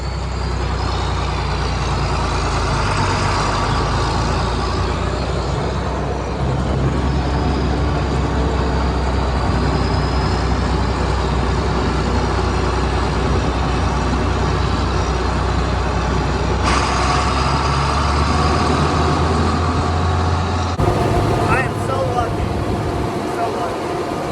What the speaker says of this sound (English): While she was sitting here idling, I noticed that number 3 injector is having some problems.